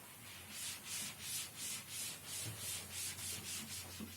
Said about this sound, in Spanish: Vamos a dejar un poco limpia la pizarra.